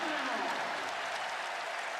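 A Virginia home crowd in Charlottesville applauds the defense at a college men's basketball game against Georgia Tech, a dense steady wash of clapping throughout with a commentator's voice faintly beneath.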